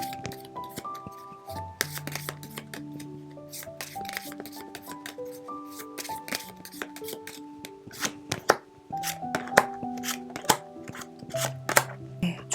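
Tarot cards being shuffled and drawn for a love reading, a steady run of crisp papery slides, flicks and taps close up, set over soft sustained background music.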